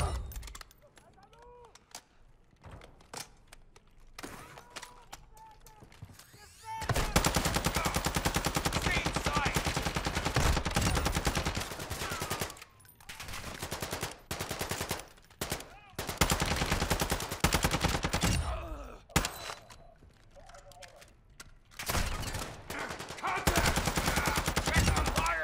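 Bursts of automatic gunfire from the video game Warzone 2 DMZ, sporadic single shots early, then long loud sustained volleys broken by short pauses, with occasional voices in between.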